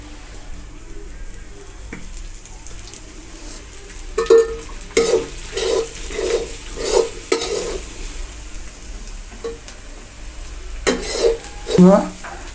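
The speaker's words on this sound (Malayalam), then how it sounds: "നല്ലോണം ഇളക്കി കൊടുക്കാം." A spoon stirs tapioca frying with ghee in a pan, giving a steady sizzle under scraping strokes that come in a rhythmic run of close scrapes and clinks against the metal.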